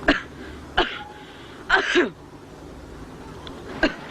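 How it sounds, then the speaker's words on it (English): A series of short, harsh coughs and throat clearings from a man with a bronchial cough, close and fairly loud, spaced irregularly with quiet gaps between them. "Bad cough, sir."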